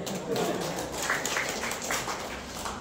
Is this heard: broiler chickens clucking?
no